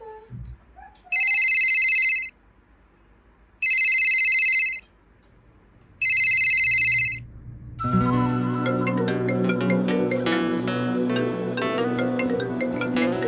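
A mobile phone rings three times in a clear, loud electronic tone, each ring about a second long with short gaps between, followed by background music playing indoors.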